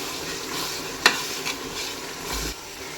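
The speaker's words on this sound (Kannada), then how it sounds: "ಅದೆಲ್ಲ ಹಸಿ ವಾಸನೆ ಹೋಗೋವರೆಗೂ ಫ್ರೈ ಮಾಡ್ಕೋಬೇಕು." Ground spices and masala frying and being stirred in a pan for mushroom biryani, a steady close sizzle with a sharp scrape of the spoon partway through and a few softer stirring sweeps.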